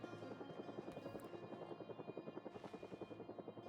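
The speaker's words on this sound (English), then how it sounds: "But it's getting louder. There's a helicopter." A helicopter's rotor thumps steadily in the distance in the video game Project Zomboid, a faint rhythmic chopping that slowly grows more pronounced.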